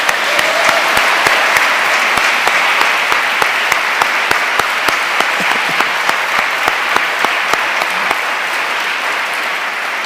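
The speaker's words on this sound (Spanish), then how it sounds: "Denle un fuerte aplauso al Señor" A church congregation claps loudly and steadily together, a dense, sustained round of applause with sharp individual claps standing out, filling the room without any speech over it.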